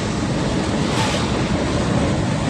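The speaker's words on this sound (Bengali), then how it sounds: "বৃষ্টি যদিও কম কিন্তু বাতাসটা অনেক বেশি" Strong cyclone wind roars through a street in a steady, loud, unbroken rush of broadband noise that buffets the microphone, with no voices.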